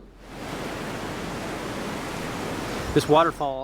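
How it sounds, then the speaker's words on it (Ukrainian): Steady roaring rush of a two-metre waterfall on Icicle Creek, loud and continuous, with a voice breaking in briefly near the end. "Цей водоспад трохи моторошний на вигляд, тому що заввишки він 2 метри."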